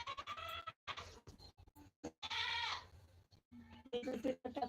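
Several wavering bleats from a goat come in bursts, one long and prominent in the middle, with short gaps and some quieter background sounds between.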